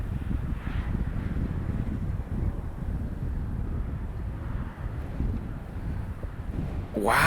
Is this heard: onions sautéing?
no